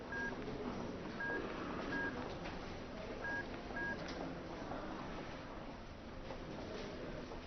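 Touch tones from a cell phone being dialed, a series of short beeps spaced irregularly over a faint, noisy indoor background.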